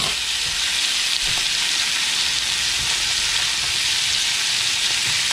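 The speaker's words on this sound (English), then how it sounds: "The trout, we're going to turn it over one more time because it's a little thicker." Trout and mackerel frying in a pan give a loud, steady, close sizzle that runs unbroken throughout, with faint occasional knocks underneath and no voices.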